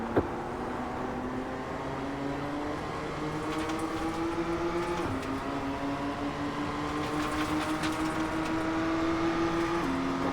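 A race car engine in a racing video game drones steadily at high revs, its whining tone climbing gradually in pitch with brief dips as gears shift, loud and continuous throughout.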